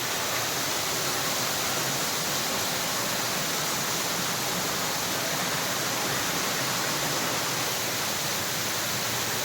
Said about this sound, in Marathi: सध्या मी गडद धबधब्याचा आनंद घेण्यासाठी धबधब्याच्या मध्ये जात आहे